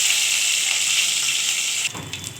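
Whole cumin, bay leaf, green chillies and dried chillies sizzle loudly and steadily in hot oil, then the hiss drops sharply near the end and a few stirring sounds follow.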